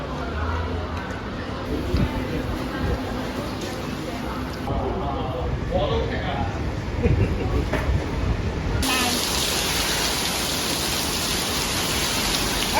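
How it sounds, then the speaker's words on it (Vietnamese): Heavy rain pours steadily on a street in Singapore, a dense continuous hiss close by that swells louder partway through, with people talking over it. "Em mưa to kinh khủng luôn."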